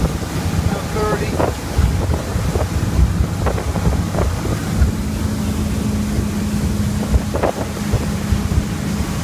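A motorboat throttling up toward about 30 mph on open water, its engine a steady low drone under constant wind buffeting, with a few brief thumps and splashes as the hull meets waves.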